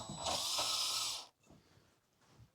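A power driver runs a screw into a ceiling fan mount for about a second, a close, bright whir, followed by faint handling clicks and rustles.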